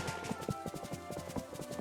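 Horse hooves clip-clopping at a quick, regular trot in the Disney Dreamlight Valley video game, a brief run of close, crisp, quiet hoofbeats with no talk.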